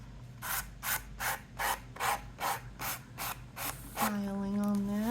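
Hand filing on a notepad folio made from a Dollar Tree box, about ten even, close rasping strokes in a steady rhythm, followed by a brief sustained tonal whine at the end.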